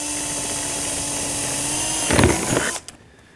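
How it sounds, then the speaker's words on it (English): A power drill whines steadily, then bites into wood with a rougher grinding burst before stopping abruptly, leaving quiet. "and gently drill me a hole"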